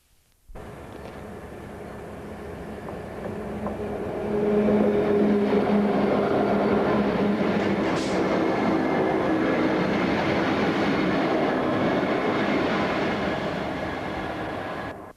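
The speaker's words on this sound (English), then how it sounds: "From Immingham Motive Power Depot, coupled Class 66 locomotives head towards Ulceby." A pair of coupled Class 66 diesel locomotives from Immingham depot rumble past with a deep, droning engine note and wheel noise. The sound swells as they draw close and then stays loud and steady.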